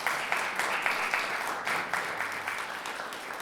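An audience claps for a musical performer, a full, even wash of many hands held at a steady moderate level, with small surges in intensity and no pause.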